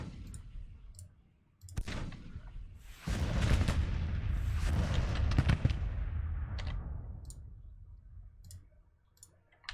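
Gunfire and artillery in the Grand Tactician Civil War strategy game as skirmishers come under fire: scattered sharp cracks, then a dense, sustained roar of musketry and cannon that swells and slowly fades, with occasional isolated clicks.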